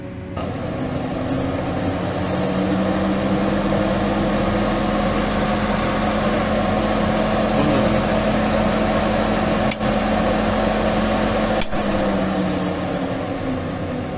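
An onion storage machine runs steadily after starting, giving a loud, even motor hum with a constant whirring drone. Two brief clicks break through near the end.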